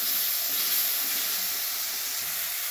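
Finely chopped tomatoes hit hot masala spiced with hing and coriander powder for a cluster-bean (gavar) bhaji, giving a steady, fairly loud hiss and sizzle that runs unbroken with no talking.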